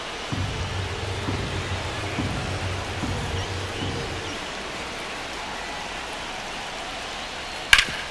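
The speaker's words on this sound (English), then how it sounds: "This rain is not letting up." Heavy rain pours steadily during a baseball game in MLB The Show 25, a constant hiss of falling water with a faint low rumble and a sharp crack near the end.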